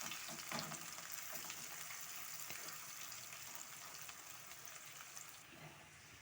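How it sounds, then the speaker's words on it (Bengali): Chopped onion frying in a pan gives a steady, close sizzle that holds throughout, with a few faint stirring clicks and no talk. "দিয়ে দিলাম পেঁয়াজ কুচি। এই পেঁয়াজটা একটু লাল লাল করে দিতে হবে।"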